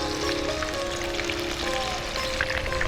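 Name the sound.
chicken pieces deep frying crispy in oil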